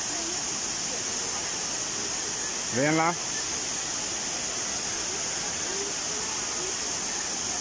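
Velo de Novia waterfall at Avándaro near Valle de Bravo, Mexico, a continuous broadband rush of falling water heard steadily throughout, with a man's brief spoken word partway through.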